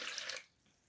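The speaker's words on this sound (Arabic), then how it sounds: "وهحط كوباية مية متلجة" Iced water poured from a glass into a blender, a quick splashing gush lasting under half a second and then fading to quiet, with no talking.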